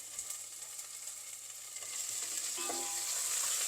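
Dried red chillies and green chillies frying in hot oil for lemon rice, a quiet steady sizzle with a few soft pops, close and alone.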